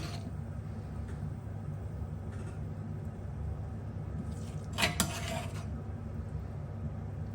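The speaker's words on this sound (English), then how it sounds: "I'm just going to spoon the pesto just randomly around." Peanut pesto is spooned over baked sweet potato, broccoli and beans, with faint clinks of a spoon against the dish over a steady low hum and one brief louder clatter.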